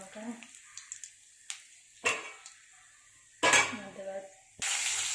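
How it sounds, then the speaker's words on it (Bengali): Potatoes frying in a pan in a home kitchen, sizzling in short bursts that turn into a steady hiss near the end, with faint utensil clinks and a voice talking nearby. "খাওয়ার জন্য আলু ভাজা বসিয়ে দিয়েছি"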